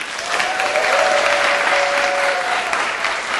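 A small audience at a first solo vocal recital applauds, a loud, dense and steady burst of clapping with a faint tonal whistle or cheer carried through it.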